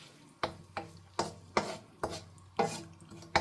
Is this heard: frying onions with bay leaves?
yes